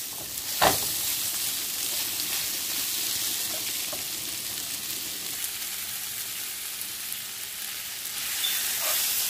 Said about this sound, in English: So we're gonna saute this vegetable now.